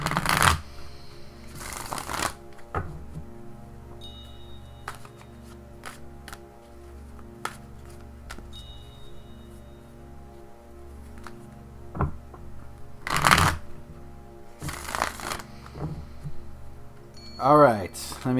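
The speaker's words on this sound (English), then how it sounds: "just shuffle my Druid Craft Tarot here" Druid Craft tarot cards are shuffled by hand in sharp, brief riffling bursts, some louder and closer, separated by quieter handling taps over a low steady hum.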